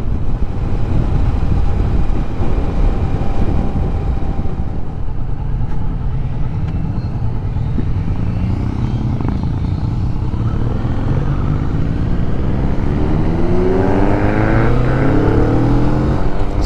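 Kawasaki Vulcan S motorcycle engine running steadily and loud, with a continuous low rumble and rising, sweeping rev tones toward the end, alone without talk.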